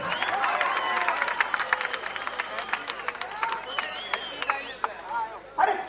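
Crowd at a political public meeting in India clapping and cheering steadily, with dense overlapping claps and voices throughout, then a brief louder burst near the end.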